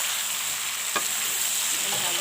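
Ash gourd and potato stirred and fried in a pan with meat, a continuous bright sizzle close up, with one sharp clink of a spoon against the pan.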